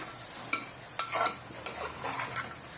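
A spoon scrapes and stirs rice through fried onion and tomato in a pan, with several sharp metallic knocks against the pan over a soft sizzle.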